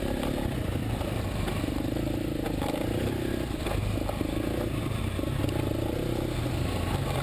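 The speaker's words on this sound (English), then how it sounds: "And now, if you listen to the engine here" BMW motorcycle engine, from an F800GS or HP2, lugging at low revs on forest switchbacks, a steady close rumble with some clatter and no talk.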